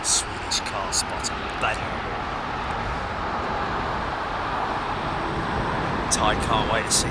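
An airliner powered by IAE V2500 engines produces a steady, broad roar that fills the whole stretch at a consistent level, with people talking faintly over it.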